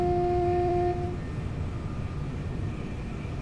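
A train engine idling in Train Sim World 2 on a London commuter service, a steady low rumble with two sustained tones fading out after about a second, leaving a constant hum.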